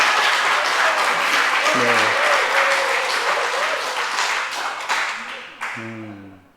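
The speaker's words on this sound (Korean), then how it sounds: "여기 박수 한번 치셔야 됩니다." A church congregation at a Friday service claps together in a loud, sustained round of applause that gradually tapers off, with a voice speaking through and after it.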